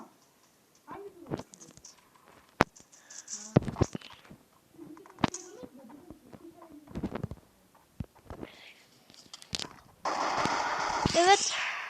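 Gunfire in a team-battle shooter video game: sharp shots and short bursts scattered among speech, ending in a louder, dense stretch of sustained fire.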